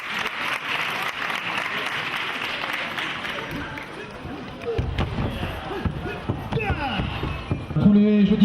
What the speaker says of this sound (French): On l'applaudit très très fort, messieurs dames.